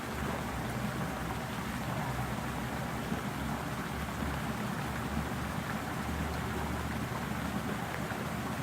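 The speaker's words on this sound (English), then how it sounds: "Raining outside in Fitzgerald." Rain falling outdoors in downtown Fitzgerald, Georgia, near the waterfalls, a constant close wash of drops on surfaces with no pauses.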